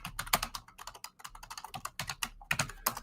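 Rapid typing on a computer keyboard while entering an AI prompt, a close, dense run of crisp key clicks in uneven bursts with brief pauses, no talking.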